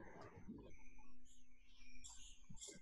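A caged bird calls with several short chirps and whistled notes spread across a few seconds, fairly close and alone, with no talking over it.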